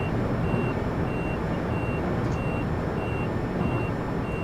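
Warning alarm in the Train Simulator 2013 game on a high-speed line, steady repeating electronic beeps at an even rhythm over a constant loud rumble of train running noise, no talking.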